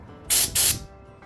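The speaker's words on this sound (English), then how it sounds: "Now we're gonna go downstairs and use the air compressor to hopefully" Air compressor blasting air into a bike tire to seat it, two loud, close hissing bursts in quick succession before quiet returns.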